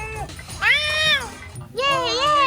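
A cat meows loudly and close by, two drawn-out, wavering calls separated by a brief pause, heard indoors in a tent home.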